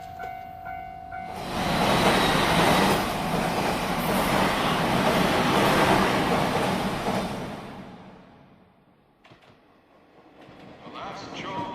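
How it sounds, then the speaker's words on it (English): A shoreline train bound for Tokyo pulls in with a loud, steady rumble and rattling wheels for several seconds, then eases off and fades as it comes to a stop. "The last shoreline train bound for Tokyo is now arriving."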